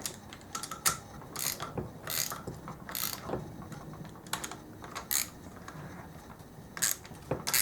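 A hand ratchet clicks in quick, uneven bursts of sharp metallic ticks while loosening bolts on the engine cases of a KX250F dirt bike, close and fairly quiet, with no talking.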